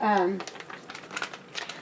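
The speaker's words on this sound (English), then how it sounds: "Normally I just put them in a zipper bag, push all the air out" Plastic zipper bag holding harvested bell peppers for freezing, crinkling softly in short bursts as air is pressed out, close and fairly quiet, right after a brief spoken word.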